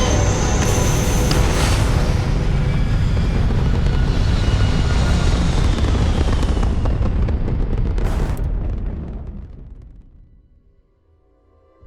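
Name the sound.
spaceship taking off into orbit, from video game Starfield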